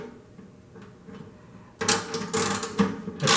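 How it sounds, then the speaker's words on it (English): Tightening a bolt during a hockey puck install, with quiet mechanical rattling and small clicks at first, then louder grinding, scraping metal bursts close by, no talking. "I'll go ahead and tighten this end that's got a little slop in it slightly."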